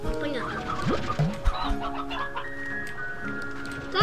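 Chickens cluck in the video game Slime Rancher 2, a string of close, repeated clucks and chirps layered with bright game tones and a low background hum.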